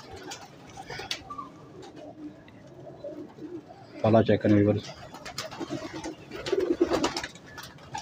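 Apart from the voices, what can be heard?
pigeons cooing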